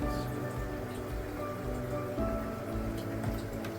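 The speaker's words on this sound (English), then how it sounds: "you will hear this water trickling" Purified RO water trickles and drips into a bucket beside a shrimp tank. A steady low hum from an air stone runs underneath throughout.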